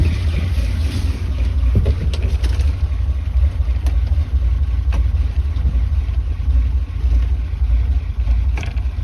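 A 1976 Ford F-250 farm truck engine rumbles low and steady, loud and close, as the old truck is put into gear and creeps forward, with a few faint knocks and rattles over the continuous drone.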